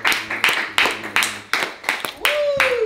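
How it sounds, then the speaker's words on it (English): Rhythmic clapping for a performer being introduced on a show, a crowd striking hands together in sharp, evenly spaced bursts, with a rising, sliding whistle-like tone near the end. "Give it a round of applause for Nia"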